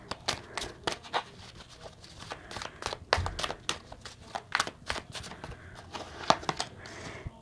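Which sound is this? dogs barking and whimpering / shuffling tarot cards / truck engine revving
shuffling tarot cards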